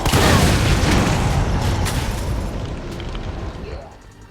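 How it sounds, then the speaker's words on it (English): Red barrel blown up in the Resident Evil 3 Remake video game, a loud broadband boom opening the clip and rolling into a long rumbling decay that fades over about four seconds. "just find yourself a cheeky red barrel, give it a couple of pops and boom"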